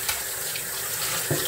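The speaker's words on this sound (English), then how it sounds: "Just rinse it out real good." Tap water runs steadily into a regular home kitchen sink while a pan is rinsed out, a continuous close hiss with a brief splashy surge near the end and no talking.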